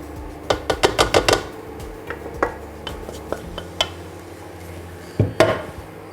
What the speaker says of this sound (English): And stir that through.